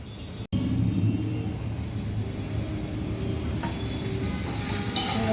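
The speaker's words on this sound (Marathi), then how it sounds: "इथे पाच मिनिट चांगलं असं ना टॉमॅटो आणि कांदा शिजून घेऊया" Tomato and onion sizzle steadily in a hot pan for a fish chutney, a dense continuous frying hiss after a brief stir at the start.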